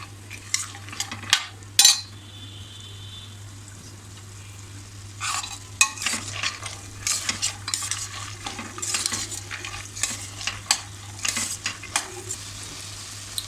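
Spices sauté in oil in a pan for a Malvani black-eyed bean and potato bhaji, heard as repeated loud, close scraping stir strokes over a soft sizzle and a constant low hum.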